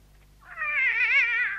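A single drawn-out cat meow, rising then sustained and wavering for over a second, close and clear against a quiet background, with no voices, set within a radio drama.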